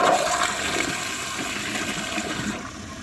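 A ProFlo Gilpin toilet flushes in one continuous rushing swirl of water, close and fairly loud, fading slightly toward the end.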